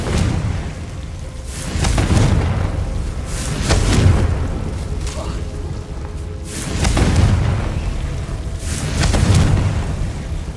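Confringo spell blasts in a Hogwarts video game, a series of deep booming explosions about every two to three seconds, loud and rumbling, with no talking.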